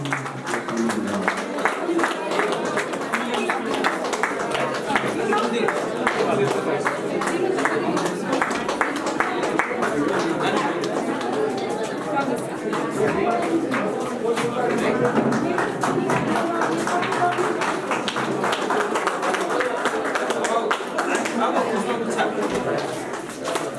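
A crowd applauds steadily and loudly throughout at a Nepali community event, dense clapping mixed with audience chatter, continuous from start to finish.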